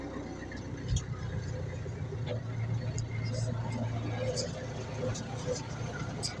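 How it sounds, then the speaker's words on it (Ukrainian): A tractor-mounted mulcher mows weeds in reverse gear, its low engine drone steady and close throughout, with someone talking over it. "Косимо задньою передачею, щоб як мінімум менше топтати зілля і щоб все зілля перемололо"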